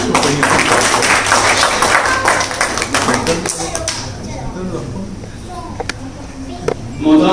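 Applause from an audience welcoming guests at a Jashn-e-Khalid Fathehpuri literary gathering, a dense burst of clapping that fades over several seconds while someone speaks over it.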